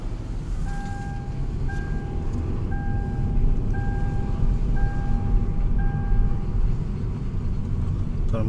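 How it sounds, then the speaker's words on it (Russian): A truck's brakes squeal in a series of six short, regular high-pitched tones over a low, steady engine rumble from a truck that is close by. "Тормоза скрипят."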